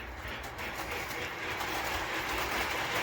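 A toy electric train on a Christmas track rumbles and clatters continuously along its track, close and fairly loud, with no voices.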